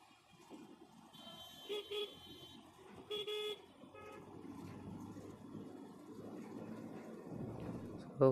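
A motorcycle horn sounds in busy traffic behind a bus during a group ride, giving two short honks over a steady rumble of engines and road noise.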